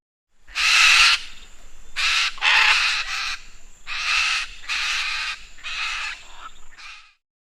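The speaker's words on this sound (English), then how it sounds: "macaw" A macaw gives a series of loud, harsh squawking calls, about seven raspy bursts in an irregular rhythm, close and clear with no other sounds.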